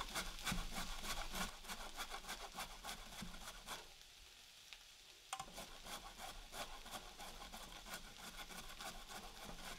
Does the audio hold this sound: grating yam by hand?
yes